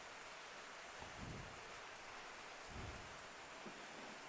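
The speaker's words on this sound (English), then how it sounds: "So nice and heavy here with the rain." Heavy rain pours down steadily at an outdoor football match, a dense hiss with a couple of low rumbles rolling in; no voices.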